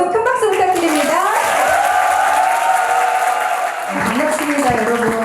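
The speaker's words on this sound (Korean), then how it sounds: "여러분 큰 박수 부탁드립니다" An audience at a book concert for an author applauds with a sustained wash of clapping and crowd noise, partly masked by voices and tonal sound over it.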